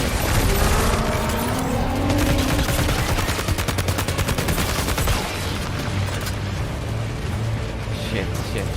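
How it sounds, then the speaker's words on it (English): A level 1 assault rifle in Death Stranding 2 fires loud, rapid bursts of automatic gunfire for several seconds, with short pauses between strings of shots and a voice talking under the shooting. "This is a level 1 assault rifle."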